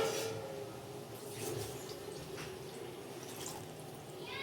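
Water is poured into a pan of curry gravy while cooking, a soft, faint trickling and splashing with no talking.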